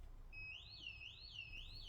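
A Z-Wave smart home panic alarm: a rising and falling electronic siren wails in repeated sweeps, steady and fairly loud over a low background hum.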